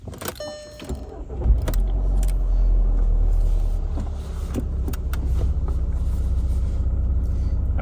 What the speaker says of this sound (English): I'm going to try to go ahead and turn the key